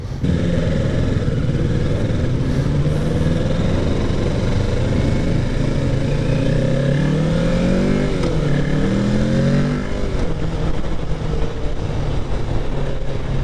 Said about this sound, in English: Today I'm riding the 2023 Kawasaki Ninja 650.